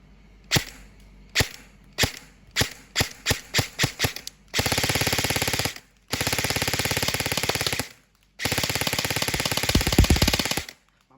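An E&C 827 Gen2 toy gel blaster with a 9.5-inch front kit firing: about a dozen sharp single shots in quickening succession, then three loud sustained full-auto bursts separated by short pauses.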